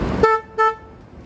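An e-bike horn sounds two short, loud, bright honks in quick succession, close by with no other sound around them.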